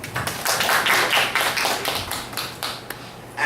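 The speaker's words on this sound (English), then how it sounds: "Please give him a round of applause." An audience claps briefly after a keynote speech, a dense burst of applause that thins out and fades over a few seconds.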